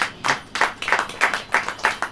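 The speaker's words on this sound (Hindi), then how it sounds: "ताली बजाइए" A congregation at a Hindi church service claps in unison, giving about eight sharp, evenly spaced claps at a quick steady beat with no voices over them.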